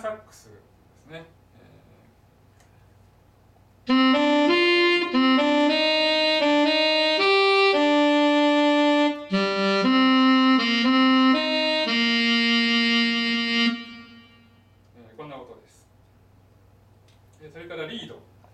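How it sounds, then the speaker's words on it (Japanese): A wind synthesizer set to a tenor saxophone sound plays a lively run of sustained and quick reed-like notes, preceded and followed by brief quiet speech. "続きましてテナーサックスですね。"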